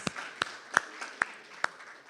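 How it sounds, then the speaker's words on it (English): At a Sunday celebration service, a congregation applauds the band, though only a handful of crisp, evenly spaced claps ring out against a quiet room. "Give them another round of applause"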